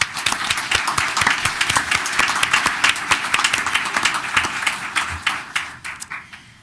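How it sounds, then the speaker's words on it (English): Audience at a township committee reorganization meeting breaks into applause, a close, lively patter of many hands clapping that holds strong, then thins out and fades over the last seconds. "Please join me in a round of applause."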